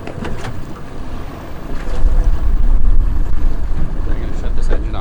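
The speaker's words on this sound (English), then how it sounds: "I'm gonna shut this engine off." A boat engine runs on a river with a low, steady rumble close by, mixed with wind buffeting and water noise, its loudness rising partway through.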